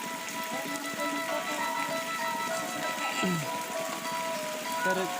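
Steady rain patters on a surface in rural rice fields, a constant hiss close by, with faint voices murmuring underneath.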